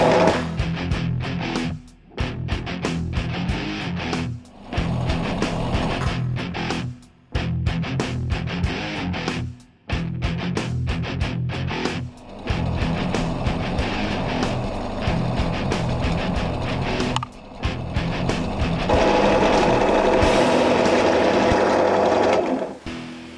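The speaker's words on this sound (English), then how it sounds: "I think it should be okay to wire wheel them" A motor-driven wire wheel scours the valves from a Honda CBR1000F cylinder head with a loud, harsh buzzing grind, running in repeated bursts with short pauses between passes and a steadier, brighter stretch near the end.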